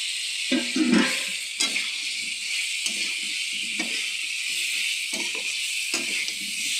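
Potatoes going into frying spice masala for dum aloo, a constant bright hiss of hot oil with several short bursts of clatter and stirring, fairly close.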